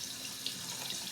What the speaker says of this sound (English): Now, you pour the water out,